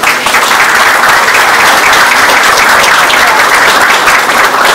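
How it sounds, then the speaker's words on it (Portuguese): Sustained, loud applause fills the room at a regional public security forum ceremony as police representatives are called to the head table, a dense, even wash of clapping from a large audience with no pauses. "Convidamos e peço os aplausos para os representantes da Polícia Militar do Estado do Rio, Coronel Marcelo Rocha"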